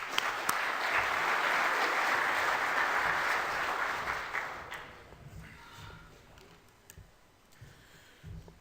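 An audience applauds to welcome a speaker at a crop science presentation. The clapping is steady and dense for about four seconds, then thins and fades to a few scattered claps.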